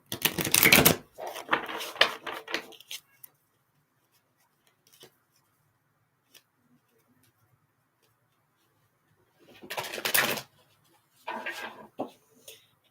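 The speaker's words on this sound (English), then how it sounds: "Shuffle them up." Tarot cards riffle and snap in two quick bursts separated by a quiet pause, with faint light rustles and taps in between.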